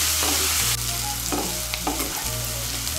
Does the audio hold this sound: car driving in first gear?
no